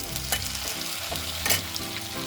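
Tomatoes and green chilies sizzle in a pan for a chicken dish, a loud, steady frying hiss up close with a few stirring scrapes.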